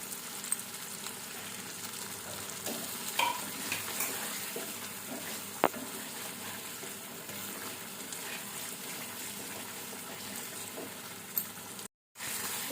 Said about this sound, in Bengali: এতে আমি এবার ডিমগুলো দিয়ে দেবো।